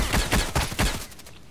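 AK-105 rifle fire in the video game Contract Wars, a quick burst of several loud, close shots in rapid rhythm that stops abruptly.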